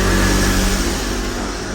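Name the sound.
motorbikes passing outside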